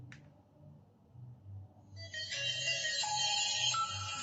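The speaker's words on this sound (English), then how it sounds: "Let's try to power on our phone." A repaired budget phone powering on in a repair shop plays its startup tone, a bright melodic chime that swells in around two seconds in and sustains steadily to the end over a low background hum.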